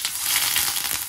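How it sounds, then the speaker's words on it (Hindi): Frozen chicken nuggets fry in hot oil with a loud, close, continuous crackling sizzle and no voices. "नगेट्स को फ्राई करूँगी मैं किसी ऑयल में"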